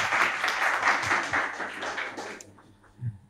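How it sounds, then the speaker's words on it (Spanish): Audience applause at a youth Internet governance forum session, a moderate spell of clapping that fades out after a couple of seconds, followed by near silence. "Aplausos, por favor."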